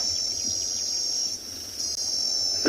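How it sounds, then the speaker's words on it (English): A cicada shrills right beside a safari vehicle on a sunrise drive at Tswalu, a constant, piercing close-up drone that wavers slightly, with no voices. "The cicada singing behind, right on the side of the vehicle here. You can hear this constant shrilling noise."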